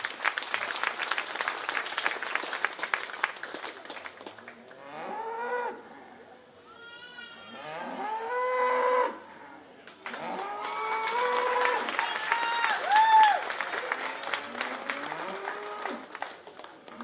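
Applause at a 4-H beef showmanship contest at a county fair, crowd clapping that fades out midway while cattle moo repeatedly nearby, then clapping resumes with more lowing mixed in.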